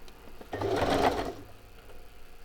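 A sewing machine stitches a fabric ruffle in one short, close burst of rapid mechanical whirring lasting about a second, then stops.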